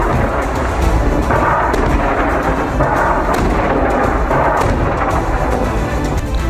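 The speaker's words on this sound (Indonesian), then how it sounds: "Serangan roket dan peluru artileri Hizbullah menyasar konsentrasi pasukan Israel." Hezbollah rocket and artillery shell fire aimed at Israeli troop concentrations in southern Lebanon comes through as a dense, continuous roar of rumbling blasts and booms, loud throughout with no voices.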